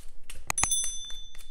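Bright bell dings for a notification alert, two sharp strikes close together with ringing overtones, set over a faint kitchen background of potato peeling.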